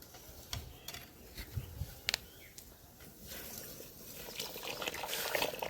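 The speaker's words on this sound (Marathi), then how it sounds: "गंजात पाण्याला उकळी येत आहे त्यात मी ते पीठ वरणार आहे" Sorghum flour being poured into a pot of boiling water for traditional rural Maharashtrian jowar bhatodya, giving soft, faint trickling and pouring sounds with scattered clicks and taps, growing slightly louder toward the end.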